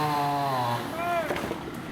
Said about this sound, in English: the sound of chainsaws cutting through the misting rain